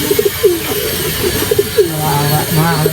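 A racing pigeon coos softly in repeated short phrases close by, amid background chatter and ambient noise at a pigeon race loft.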